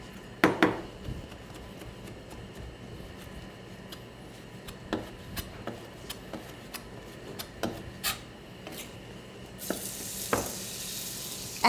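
A couple of small bacon pieces frying in a little fresh oil in a pan, a soft, faint sizzle with scattered light ticks and scrapes throughout and a brighter crackle toward the end.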